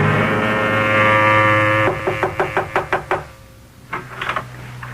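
Sharp knocks rap on a door in a quick series of about six, then a shorter cluster, following a sustained musical chord in a radio drama scene.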